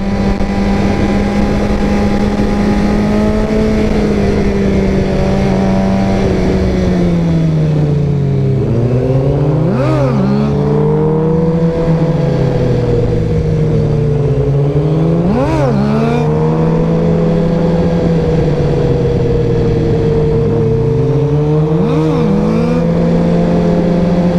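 A motorbike engine revs hard and continuously during a wheelie, loud and close, its pitch rising and falling in repeated surges about every five to six seconds.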